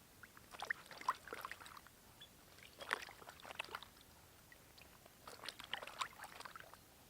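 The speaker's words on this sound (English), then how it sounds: "I think I will give the boxers a wash and just see what happens." Boxer shorts washed by hand in Donald Lake without soap, heard as three bursts of close sloshing and splashing water separated by quieter pauses, with no voices.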